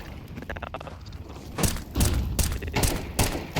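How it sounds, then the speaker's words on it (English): Counter-Strike 2 gunfire in a shooting match, starting with soft distant clatter and then building to several loud bursts of rapid shots with thudding impacts, heard alone without talk. "You instantly start shooting, then you adjust to the guy."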